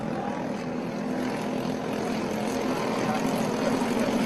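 Junior sprint race cars approach the start-finish line of a heat race, their engines a steady, dense roar that builds slightly louder as they near.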